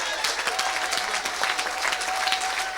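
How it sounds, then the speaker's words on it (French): A congregation at a Saturday church service claps and cheers for Jesus in a dense, continuous burst of applause with scattered shouts, fairly close and lively throughout. "Acclame pour Jésus très fort que ça."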